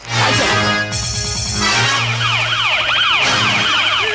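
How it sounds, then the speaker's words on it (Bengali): A police car siren wails loudly and close, its pitch sweeping up and down in repeated cycles with overlapping tones. "পুলিশের গাড়ি এসে গেছে"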